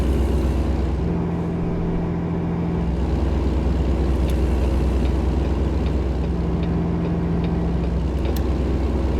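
A Paccar diesel truck engine in American Truck Simulator drones steadily at a low idle-like rumble, with faint clicks and a brief hiss, carrying on alone without talk.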